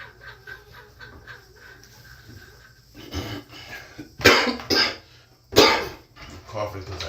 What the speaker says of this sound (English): Coughing because of allergies.